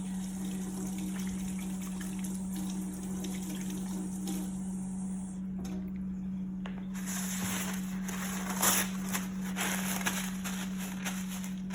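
Tap water runs steadily into a sink while hands are washed before making homemade lemonade, a continuous close gush with a low pump-like hum underneath and splashing growing brighter partway through.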